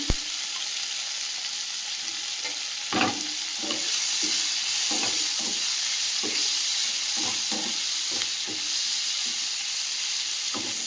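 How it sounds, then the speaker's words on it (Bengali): Shrimp fry in a pan with turmeric and spices, giving a steady loud sizzle with repeated scraping stir strokes throughout, no voices. "মশলার সঙ্গে চিংড়ি মাছটা বেশ ভালোভাবে ভেজে নিয়েছি"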